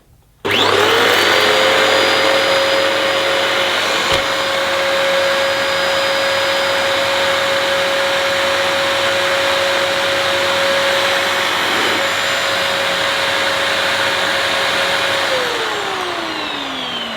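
A Dyson DC28 upright vacuum cleaner, just fitted with a replacement cord, starts up and runs as a loud, steady motor whine that holds for many seconds, then falls in pitch as it begins to wind down.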